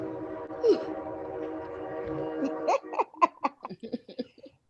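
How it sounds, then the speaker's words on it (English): A freight train passing in North Carolina sounds a long, steady horn blast at moderate distance, then fades as people chatter and laugh over the rumble. "it's this stupid freight train"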